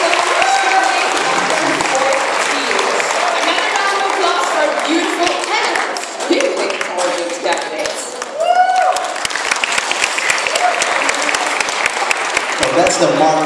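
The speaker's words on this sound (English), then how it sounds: "Another round of applause for beautiful candidates." A pageant audience applauds the candidates in a loud, sustained wave of clapping and crowd noise, with a voice speaking over it partway through.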